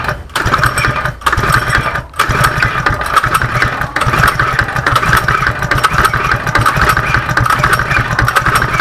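A newly fitted small engine cranks and runs with a rapid, steady mechanical chatter close by, briefly cutting out twice early on before continuing to clatter, with occasional voices in the background.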